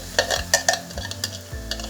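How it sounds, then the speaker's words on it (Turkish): Bursts of sizzling and utensil scraping as onion and garlic are stirred in a hot pan, short irregular strokes up close. "Bu tarafta da İmam Bayıldım'ın soğanını kavuruyorum"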